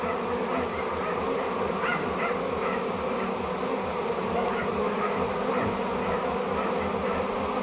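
Swarm of honeybees, captured and entering a hive body, making a dense continuous buzzing hum close to the microphone, steady in loudness throughout with no voices.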